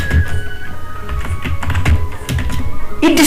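Quick keystrokes on a computer keyboard while entering a word into a database query, a short irregular run of taps over a low background hum.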